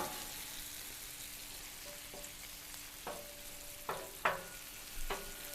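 Smashburger patties sizzle on a Blackstone griddle in a steady, close frying hiss, broken by a few sharp scraping or popping accents toward the end.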